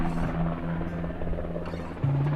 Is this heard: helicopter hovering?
yes